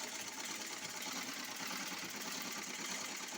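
A sewing machine runs steadily throughout, giving off a continuous, even whirring hum at moderate loudness with no talking.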